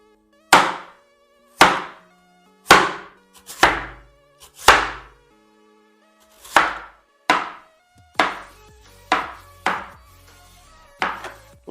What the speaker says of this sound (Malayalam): ഇത് കട്ട് ചെയ്തെടുക്കണം. റൗണ്ടിൽ നൈസ് ആയിരിക്കണം കട്ട് ചെയ്യുന്നത്.